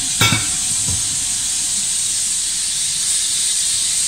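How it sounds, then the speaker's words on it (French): Onions sweating in an unwashed wok without added oil for homemade ratatouille, a loud steady hissing sizzle that starts with a quick clatter and then holds evenly. "je vais faire suer les oignons"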